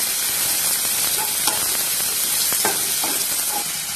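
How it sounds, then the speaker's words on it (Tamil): Chopped onions and curry leaves sauté in hot oil in a pan, giving a loud, dense, steady sizzle with faint scraping stirs throughout, close up and with no talking. "எல்லாத்தையும் நல்லா வதக்கி விட்டுறலாம்."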